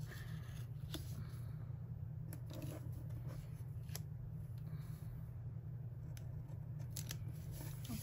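Scissors snip a checklist sticker from a sheet for a vertical planner, a run of small close crisp cuts over a steady low background hum.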